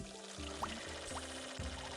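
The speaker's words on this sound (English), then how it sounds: "Now let us water our bounty." Watering plants in the garden game Forget Me Not: My Organic Garden, a steady stream of poured water running continuously and faintly for a couple of seconds over a soft background tone.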